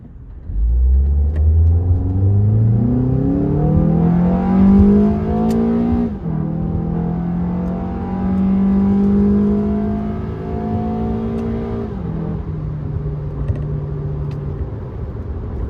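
A 2009 Honda Accord EX launches hard with stability control off, its engine note climbing loud and close through a long rev, dropping at two manual upshifts, then pulling again, with no talk.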